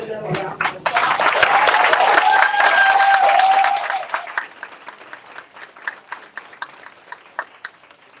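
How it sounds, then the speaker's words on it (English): An audience at a summer academy student showcase bursts into loud, dense applause with some cheering, then thins to scattered individual claps as a voice begins talking over the fading clapping. "let's give them a round of applause."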